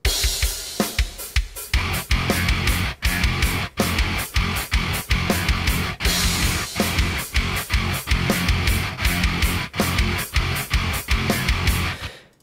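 Programmed modern metal drum track built in Cubase with the freeware Beatcraft drum plugin: dense, loud, continuous kick and snare hits with crashing cymbals, pounding steadily throughout with no voices.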